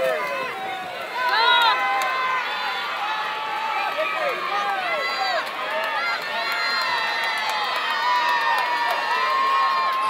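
A crowd of spectators at a youth swim meet cheers and shouts encouragement to the swimmers, high excited voices and children yelling layered continuously over poolside splashing.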